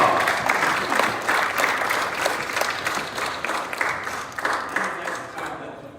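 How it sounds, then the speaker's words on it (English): A conference audience at a plenary session gives a continuous round of loud applause, dense hand clapping from a large crowd that holds steady for several seconds before tapering slightly. "Give him another round of applause."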